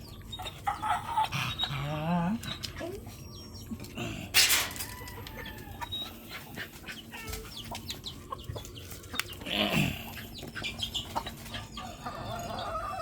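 Chickens cluck repeatedly close by at feeding time in the afternoon, with busy overlapping calls and occasional louder squawks over a steady outdoor background.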